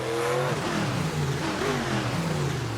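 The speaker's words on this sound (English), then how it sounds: "Overkill revving it up for the fans a bit. Real quiet engine, but a unique sound for sure." Custom car called Overkill Evolution, at a racing event in Honolulu, revving its quiet engine with a steady droning whir that rises and falls, heard up close over continuous crowd and track noise.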